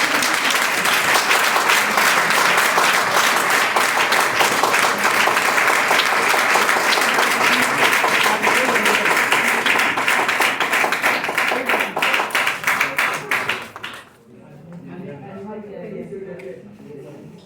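Sustained audience applause at an evening business gathering, a dense wash of many clapping hands that fills most of the stretch and then drops away abruptly, leaving softer room noise and a faint voice.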